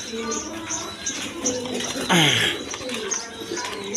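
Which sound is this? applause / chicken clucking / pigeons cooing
pigeons cooing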